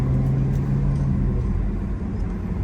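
A 1994 Acura Legend on new tires drives along with a steady, loud interior rumble and low engine drone, with no talking.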